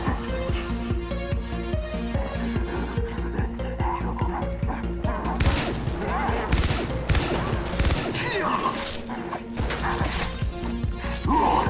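Gunshots hit running zombies' heads in the video game Far Cry 3 Blood Dragon: rapid, evenly spaced shots crack over a tonal music bed, followed by louder crashing bursts and impacts.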